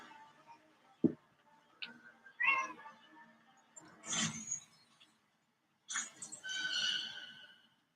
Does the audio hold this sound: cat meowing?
yes